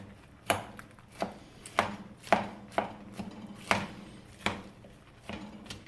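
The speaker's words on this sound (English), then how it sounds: "I'm just carefully jabbing at it here so I can break some of these peppers I diced that didn't completely break through" Spatula jabbing and chopping at diced peppers in a pan on medium heat, a steady series of about eleven sharp, evenly spaced taps, close and clear, with no talking.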